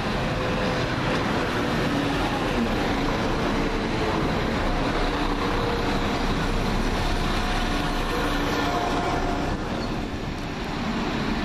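London Midland Class 172 diesel unit, number 172342, running at Birmingham Moor Street station on a Stratford-upon-Avon to Stourbridge Junction service: a steady, loud rumble of engine and wheels on rail, continuous throughout with no talk.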